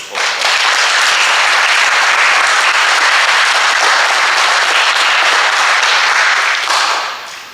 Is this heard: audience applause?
yes